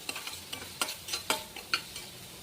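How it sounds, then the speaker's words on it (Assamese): Spice paste fried in oil in a pan, a soft low sizzle with several sharp scraping stirs at uneven intervals, close but fairly quiet, no talking. "মছলাখিনিৰ ওপৰত তেল উঠি নাহে তেতিয়ালৈকে ভাজি থাকিম"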